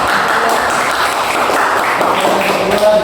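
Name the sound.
applause for classmates after a class presentation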